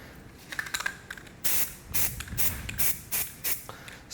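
An aerosol can sprays adhesive onto a Ford Super Duty truck seat during reupholstery, in a series of short, close hissing bursts with brief pauses between them and faint handling noises early on.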